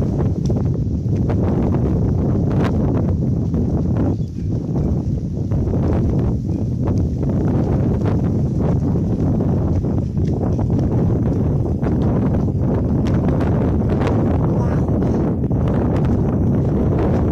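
Steady, loud sea wind on the coast buffeting the microphone outdoors, with a constant low roar and gusty rustling throughout.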